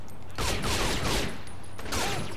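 Rapid bursts of gunfire in the video game Saints Row: The Third, several volleys overlapping in a loud, dense barrage with a steady low hum beneath and no talk.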